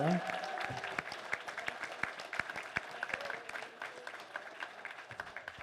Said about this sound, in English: A round of applause for Sven.